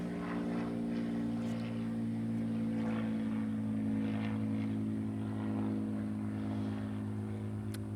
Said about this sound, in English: I'll wait for this plane to go by.